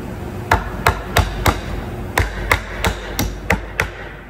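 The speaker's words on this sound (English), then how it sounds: "just like you'd hit a hammer with your pliers, you do the same with this tool" Sharp metallic taps of slip joint pliers hammering a nail strike in a steady rhythm, about ten blows with a brief pause in the middle, close and clear with no talking.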